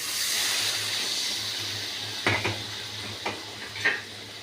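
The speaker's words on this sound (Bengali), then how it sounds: "মশলা ভালো কষে গেছে জল দিয়ে দিচ্ছি" Water poured into fried spice masala in a pan sets off a broad steady sizzle and hiss, followed by a few sharp clinks of a utensil against the pan.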